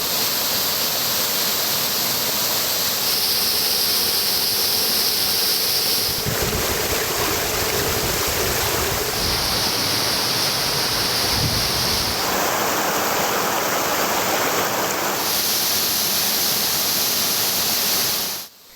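Chinna Suruli waterfall in Theni, a steady, loud rush of falling water that fills the whole stretch without pause, with no voices over it.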